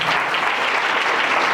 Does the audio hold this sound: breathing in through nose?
no